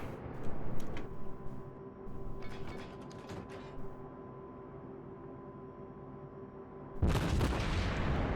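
Naval guns on an Atlanta cruiser in World of Warships fire AP rounds, with heavy booming salvos at the start. A steady mechanical hum runs underneath, and a loud burst of firing and blast noise returns near the end, with no talk.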